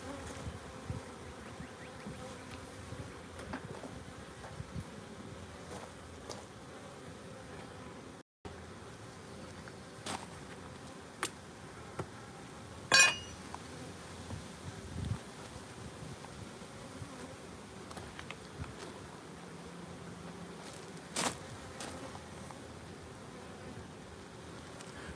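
Honeybees buzz around a beehive feeder outdoors by a greenhouse and garden, a faint continuous hum with occasional closer passes and light clicks, no talking.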